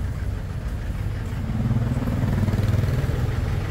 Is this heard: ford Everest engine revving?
yes